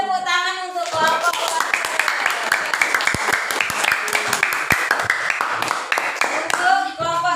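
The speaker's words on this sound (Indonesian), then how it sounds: "beri tepuk tangan untuk kelompok" Classroom applause for a student group, a burst of many children's hands clapping that starts after a short voice and continues briskly and fairly close, with children's voices mixed in.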